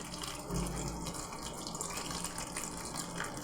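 Water pours steadily over husked mung dal held in a sieve set in a kadhai, a soft, continuous trickle and splash heard close by with no talking.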